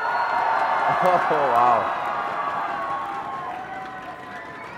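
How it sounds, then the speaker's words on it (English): A large home crowd in an arena at the IPL4 esports championship roars and cheers for CLG, a loud sustained swell that gradually eases, with a voice exclaiming briefly over it. "that is a massive home crowd advantage if I've ever seen one"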